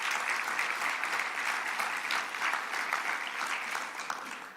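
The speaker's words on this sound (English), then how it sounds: "Please give them a round of applause." Dense, steady audience applause at a community event, a broad wash of many hands clapping continuously and fairly loud, tapering slightly near the end, with no speech over it.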